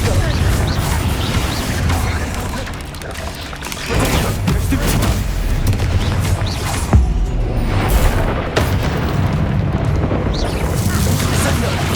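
Blasting-spell explosions cast during combat in Hogwarts Legacy: repeated booming blasts and thuds over a dense, continuous din of battle effects, with heavy impacts near the four, seven and eight second marks.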